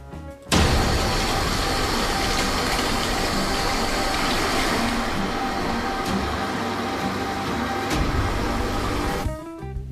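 Tap water gushes into a bathtub in a loud, steady rush that starts abruptly, runs unbroken for about nine seconds, then cuts off sharply.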